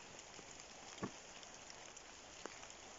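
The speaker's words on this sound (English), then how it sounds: "So this is the woods on a rainy autumn day." Steady rain falls through autumn woods, a soft continuous patter on leaves and ground with a couple of slightly louder drops standing out.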